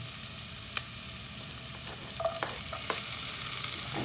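Garlic sautéing in a pan for ginisang bagoong alamang, a dense close sizzle that swells slightly toward the end, with a few scraping stirs of a utensil.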